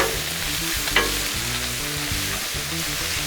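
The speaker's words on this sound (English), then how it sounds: "This shrimp won't take but just a few minutes to get done cooking." Shrimp sizzle steadily on a hot Blackstone flat-top griddle, a loud, continuous frying hiss with a stirring scrape close by.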